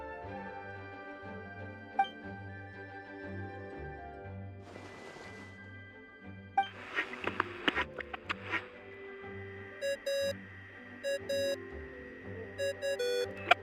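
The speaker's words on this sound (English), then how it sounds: "What's that ringing?" Ringing tones in the video game Genshin Impact: a series of short, bright, repeated chimes in quick bursts near the end, over a soft game music bed, fairly quiet and close.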